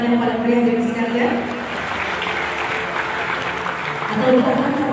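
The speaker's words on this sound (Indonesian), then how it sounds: "Boleh kita berikan tepuk tangan yang paling meriah dari sekalian." An audience at an Indonesian farmers' gathering applauds the Minister of Agriculture, a sustained roomful of clapping swelling and easing over a few seconds, with a voice speaking over it.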